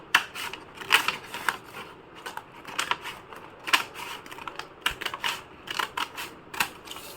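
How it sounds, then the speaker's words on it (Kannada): Scissors snip through a folded paper bag in quick, irregular bursts of crisp cuts and paper rustling, close and distinct, with short pauses between strokes. "ಈಗ ಫೋಲ್ಡ್ ಮಾಡಿಕೊಂಡು ಇಷ್ಟಿಷ್ಟು ಕಟ್ ಮಾಡಿಬಿಡ್ತಾ ಇದ್ದೀನಿ"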